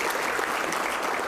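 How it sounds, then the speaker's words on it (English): A conference audience at Jackson State University applauds, a brief, dense burst of crowd clapping at even loudness with no voices on top. "Please give Jackson State a round of applause."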